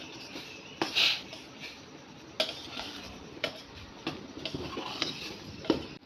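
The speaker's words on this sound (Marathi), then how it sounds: "आता आपण हे पूर्ण हलवून घेऊया पीठ" A spoon scrapes and taps inside a pot as thick dough is stirred, irregular soft knocks and scraping, fairly quiet, no talking.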